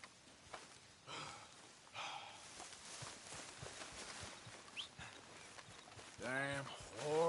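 Horse hooves clip-clop at a steady walking rhythm in a video game, with scattered game sounds and a brief rising tone near the end, partly under speech.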